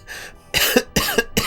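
Three harsh coughs in quick succession from a person with a sore throat, close and loud, with short gaps between the bursts.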